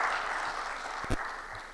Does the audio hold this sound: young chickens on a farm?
no